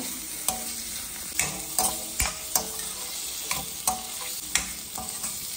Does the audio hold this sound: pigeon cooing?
no